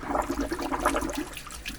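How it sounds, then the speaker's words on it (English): Air escapes from a ram pump and water bubbles and gurgles through it. The flow is continuous and moderately loud, with a churning, turbulent sound. "I hope that after this stops bubbling, we have a working ram pump."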